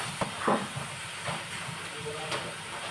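Small prawns frying in a pan for Goan-style prawn sukha give a steady, moderate hiss with a few brief crackling bursts, while a voice speaks quietly over it.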